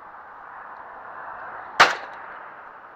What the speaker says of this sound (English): Oh, what a shot!